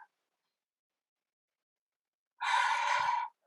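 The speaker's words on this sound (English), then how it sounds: "Take a deep breath and release" A deep breath during a guided energy-clearing meditation, one broad breathy exhale lasting under a second, close and clear after a long stretch of silence.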